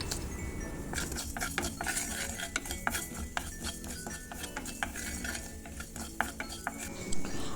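Panch phoron five-spice mix dry-roasting in a kadai-style wok, stirred with a metal utensil: a run of quick scraping clinks and taps over a steady low background, fairly close, with no talking.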